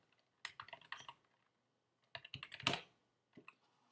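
Quick bursts of clicking keys on a computer keyboard as a title is typed, two short runs of rapid taps separated by a pause and then a final keystroke, close and fairly quiet with no speech.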